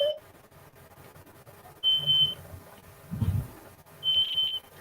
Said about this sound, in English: Oh, yeah, it's our fire alarm.